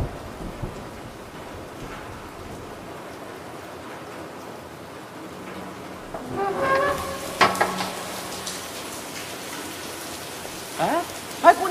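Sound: rain falling outside

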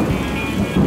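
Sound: tropical rain downpour after sunset

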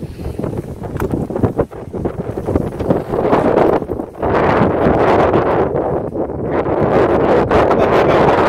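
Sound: wind blowing into the microphone

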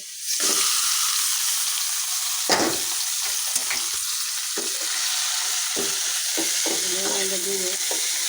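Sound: gourd greens frying with onions in oil

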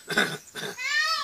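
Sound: man imitating a horse

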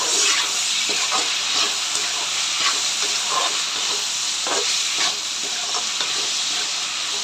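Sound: tomatoes with turmeric powder sautéing in a pan

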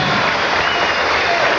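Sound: studio audience applause

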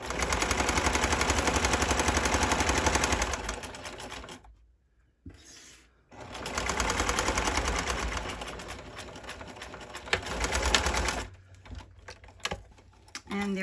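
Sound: sewing machine stitching a seam on boxers

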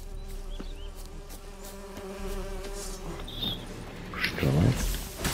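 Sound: buzzing bees in the video game The Witcher 3

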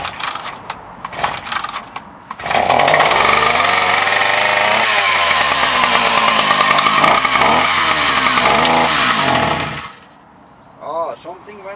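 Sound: Husqvarna L65 chainsaw running, ticking sound after new piston

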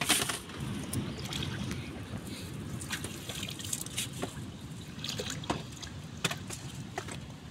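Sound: water poured with a dipper while bathing

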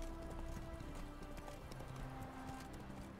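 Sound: horse hooves clip-clop in video game The Witcher 3

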